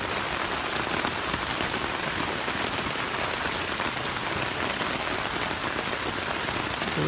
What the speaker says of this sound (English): And the rain has found us.